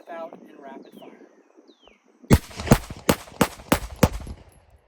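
Rapid string of six close, sharp pistol shots from a Glock 19 Gen 5 fitted with a Radian Ramjet, fired outdoors after a quiet stretch with birds chirping in the background.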